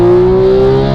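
A Porsche 911 GT3 (991.2) with a 4-liter flat-six revs hard toward 9,000 RPM, a loud, steady high-pitched engine wail that climbs slightly and holds close up, with no talking.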